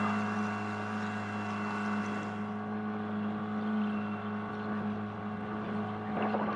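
A new Yamaha outboard motor idles through its break-in run, a steady droning engine tone with a constant low hum, close and unbroken, slightly swelling toward the end with no talking.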